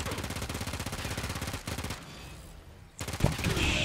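Baza submachine gun firing in Warframe, a fast, evenly spaced stream of loud rapid shots that stops briefly, leaving a quieter mechanical reload sound, then resumes with another burst.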